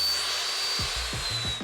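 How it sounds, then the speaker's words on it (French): A metal-cutting saw fitted with an Evomax cermet blade spins up to full speed before cutting UPN steel, giving a steady high whine over a broadband motor roar, with a few low thumps near the end. "on doit toujours attendre que la lame ait atteint sa vitesse maximum avant de commencer à descendre"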